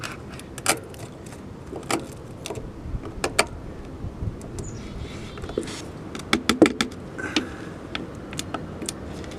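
A butcher knife carving a 90-degree notch into wood, with scattered short scraping and tapping cuts that come close and sharp, bunching into a few louder strokes near the end.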